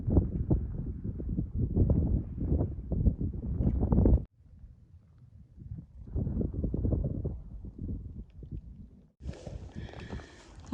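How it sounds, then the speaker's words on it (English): Wind buffets the microphone on an open hiking trail in strong, low rumbling gusts, dropping to a lull midway before surging again, loud and close with no talk. "Oh, I love when I come up out of the little valleys and get hit with the wind."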